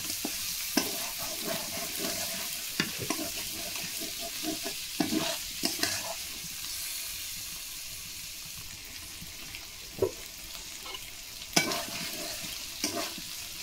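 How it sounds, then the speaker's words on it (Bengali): Giant freshwater prawns are stirred into spice paste in a pan for Bengali malaikari, with intermittent spoon scrapes and soft clatters over a low, continuous sizzle, close and unvoiced. "চিংড়ি মাছগুলো ভালো করে মশলার সাথে একটু মিশিয়ে নেবো"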